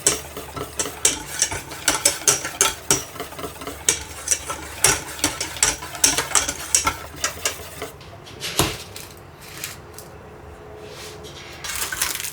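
A whisk beats pork chop batter with a tablespoon of cooking oil added, rapid rhythmic clinking against the bowl for about eight seconds, close and sharp, then a single knock and quiet handling.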